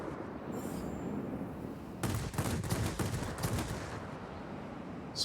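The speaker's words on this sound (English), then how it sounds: "Some careful firing as he tries to evade." Aircraft guns in the World of Warplanes game fire in short bursts during a dogfight with a JL-1A-37 Shenyang, rapid rattling volleys over steady engine drone, moderately loud.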